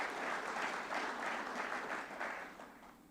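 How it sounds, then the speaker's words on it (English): Applause from the audience at the Green Aruba 2015 opening session, a dense, even wash of many hands clapping at a distance, fairly quiet and fading toward the end, with no speech over it. "hand of applause for all the Pacific Islands present here today"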